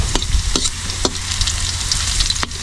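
Onions sautéing in a pan give a dense, loud sizzle throughout, broken by a few sharp scrapes and knocks as the pieces are stirred.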